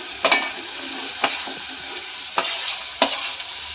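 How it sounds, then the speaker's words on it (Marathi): Onion and chili frying in a pan, a steady close sizzle with a few sharp stirring scrapes and clacks spread through it, no voices. "आता कांदा घालते. कांदा आणि मिरची एकदमच टाकते."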